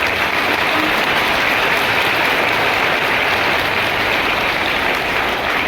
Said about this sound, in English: Students, please clap loudly.